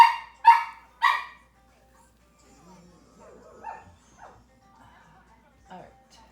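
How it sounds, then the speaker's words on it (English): A pet dog barks three sharp, loud times in quick succession close by indoors, followed by quieter yips and whimpers as a person talks softly. "that's our dog in the background."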